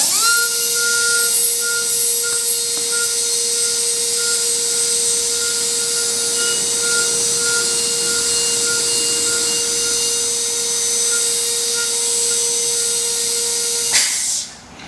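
Gates Glidden dental drill enlarging a molar root canal orifice, a continuous high-pitched whine that holds steady for about fourteen seconds, then stops abruptly.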